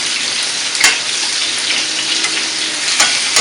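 Onions and garlic fry in a pan while preparing birria, giving a loud, steady sizzle with a couple of brief sharper crackles, no voices.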